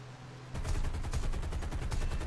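Rapid automatic aircraft cannon fire in War Thunder bursts in after a brief quiet moment, a dense, continuous rattle of heavy shots that stays loud throughout.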